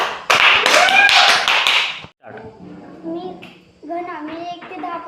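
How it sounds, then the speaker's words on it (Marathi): A class of children clapping in a quick burst of claps for about two seconds, close and loud, followed by children talking. "टाळ्या वाजवा."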